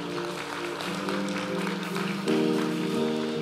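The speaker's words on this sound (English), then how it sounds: "Let's give them another round of applause." A church congregation applauds at a homecoming service, steady clapping filling the room over a sustained organ or keyboard tone, swelling slightly louder toward the end.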